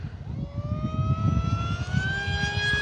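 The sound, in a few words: FMS Flash 850mm model plane flying overhead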